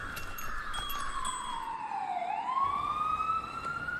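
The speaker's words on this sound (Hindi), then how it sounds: "ले ले भाई एम्बुलेंस एलो" An ambulance siren in a radio drama wails in one loud, continuous sweep that dips in pitch and climbs again, with no voices over it.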